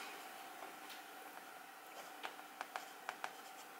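A Parker fountain pen glides across paper in a quiet room, faint soft scratching strokes that grow into a few sharper, quick ticks and scrapes near the end, close and alone.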